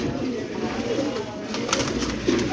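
Gola pigeons cooing at a pigeon market stall, soft low throaty coos rising near the end amid busy market noise, with people talking.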